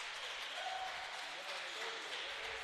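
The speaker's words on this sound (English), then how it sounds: "The crowd is going crazy." At a tennis match in the 2022 JK Windsor Cup, the crowd keeps up a dense wash of clapping and cheering from the stands, steady and moderately distant, while a commentator talks over it.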